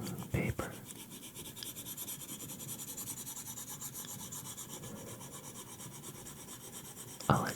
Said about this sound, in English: The iPad does have a protective screen on it that sounds like paper.